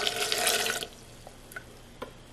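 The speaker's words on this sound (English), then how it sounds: "And add a little bit of water" Water splashes into a blender cup over sweet grapes and green apples for a honey drink, a steady rush for under a second, then a few faint drips in a quiet kitchen.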